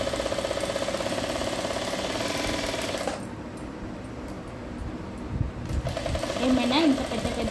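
Sewing machine stitching a blouse, a fast steady mechanical whirr with rhythmic needle ticking that stops partway and then starts again, with someone talking over it.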